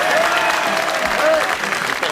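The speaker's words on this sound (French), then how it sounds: "je vous demande d'applaudir Rachid Boulawan." An audience claps steadily for a comedian introduced on stage at a comedy show, a full, even round of applause from a moderately close crowd, with faint talk mixed in beneath.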